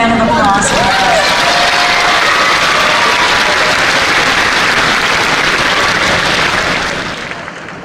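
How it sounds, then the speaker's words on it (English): Dense, steady applause from a large audience at a high school graduation ceremony, loud and sustained before fading near the end. "Let's give him another round of applause"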